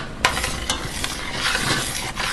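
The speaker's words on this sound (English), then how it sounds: "wait for it to continue boiling while I stir it" A spoon stirs boiling pineapple jam in a pot, giving close scraping strokes at a steady pace over a bubbling, sizzling bed of sound.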